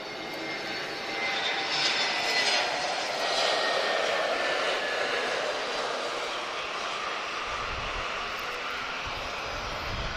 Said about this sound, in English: First heavy of today, guys, TP11. She's flying to Recife with an A330neo